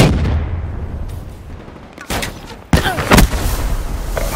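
Grenade blast and gunfire in Call of Duty: Black Ops III multiplayer, a rumbling low boom that decays, then sharper bursts of shots near the end over constant battle noise.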